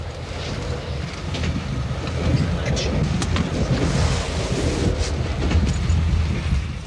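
Interior of a moving train on a journey through Yugoslavia, a steady broadband rumble and rattle with wind-like noise that builds slightly and holds loud throughout.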